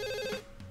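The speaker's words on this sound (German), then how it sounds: "Ich sollte ans Telefon gehen." A telephone in the adventure game Dog Mendonça & Pizza Boy rings with a bright, sustained electronic trill, a short single burst that cuts off, with no speech over it.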